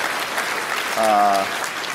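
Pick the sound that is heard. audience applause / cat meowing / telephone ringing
audience applause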